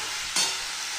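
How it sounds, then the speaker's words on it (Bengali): Taro stolons with shrimp frying in a pan, giving a steady close sizzle with one short burst of stirring partway through. "একদম ভাজা ভাজা করে নামাতে হবে।"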